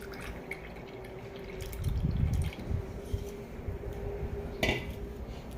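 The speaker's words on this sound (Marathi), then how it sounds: "चला आता मी ग्लासमध्ये ओतून घेते ताक" Cumin buttermilk is poured into a glass, a soft liquid trickle with light clinks of the glass over a low background hum, plus a brief sharper tap near the end.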